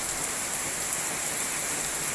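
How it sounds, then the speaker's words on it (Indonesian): Heavy rain pours down outdoors where children are bathing in it, a dense, even hiss of falling drops filling the whole stretch with no audible voices. "Mandi hujan dah."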